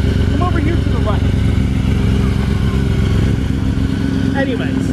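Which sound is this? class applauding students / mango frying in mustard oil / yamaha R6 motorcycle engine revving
yamaha R6 motorcycle engine revving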